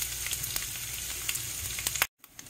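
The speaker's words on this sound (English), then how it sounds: "Now time to add the onions. Fry them until half golden brown." Onions frying in hot oil with curry leaves, a steady soft sizzle with faint stirring taps, cutting off abruptly near the end.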